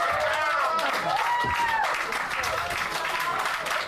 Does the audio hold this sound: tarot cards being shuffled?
no